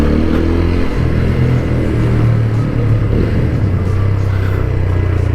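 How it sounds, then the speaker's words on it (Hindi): A TVS Apache RTR 200 4V motorcycle engine drones steadily at speed on a highway, loud and close, with constant road rumble and wind throughout. "हाईवे पर लेकर चलते हैं बाइक को"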